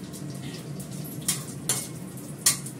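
Spices and asafoetida tempering in hot oil in a pan, a soft continuous sizzle with three sharp crackling pops spaced about half a second apart.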